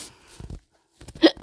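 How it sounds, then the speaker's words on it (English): A cartoon character hiccups, with short voiced sounds at the start, a brief silence, then a sharp, loud hiccup amid more vocal noise. "I got the hiccups again!"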